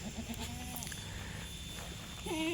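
Pregnant Kathiawari goats bleat a few times, short wavering cries near and far, with a louder bleat at the end over a quiet background.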